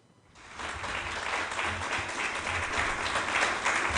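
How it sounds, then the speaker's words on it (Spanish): Warm applause fills a conference hall at the Foro Solidario de Avilés, starting after a brief silence and swelling into a steady, full round of clapping that continues to the end. "Hay un cálido aplauso en esta sala."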